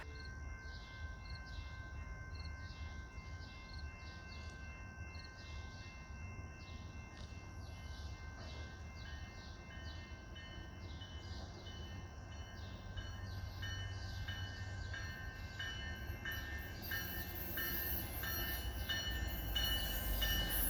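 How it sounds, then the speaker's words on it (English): A Northstar commuter train with Bombardier-built coaches approaches a station in the morning, a distant rumble and rhythmic rail clatter that swells steadily louder as it nears, with faint horn tones throughout. "Our train emerges beyond the horizon, headlight bearing down on our station"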